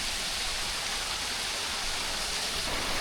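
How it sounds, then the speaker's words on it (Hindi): A waterfall at a Darjeeling hill station tumbles from above, giving a steady, broad rushing roar that stays constant and close throughout, with no talk over it. "यहाँ पर भी वाटरफॉल। तो ये ऊपर से आ रहा है"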